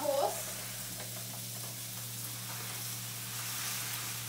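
Rice for a bacon and gouda risotto goes into a pan of translucent, lightly golden frying onions, with a brief clatter followed by a steady, soft sizzle that continues under faint stirring.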